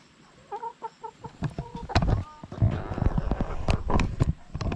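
Backyard laying hens clucking close by in repeated short bursts, rising into a busier, overlapping chorus with scattered rustling.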